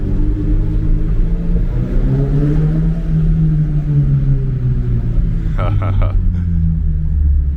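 Steady low engine rumble from a 2022 Subaru BRZ being driven on curvy mountain roads, continuous and fairly loud throughout, with someone talking over it.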